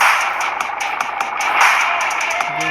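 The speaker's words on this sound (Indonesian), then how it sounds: "Disalip mobil bus malam guys." A night bus overtakes on the road in Indonesia, a loud, steady engine roar with rattling clatter and rushing noise heard from close by, with no voices.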